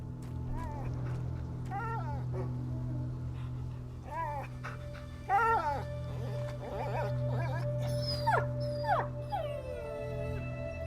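A dog in the video game A Plague Tale: Innocence whimpers and howls in rising, wavering cries over a steady low hum, with a few sharper yelps near the end.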